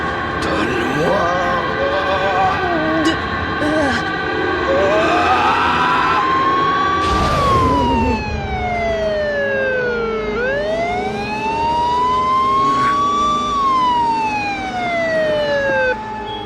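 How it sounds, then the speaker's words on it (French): A wailing siren sweeps up and down loudly, close by, with a sharp burst of noise midway; faint voices mingle underneath. "Une ambulance."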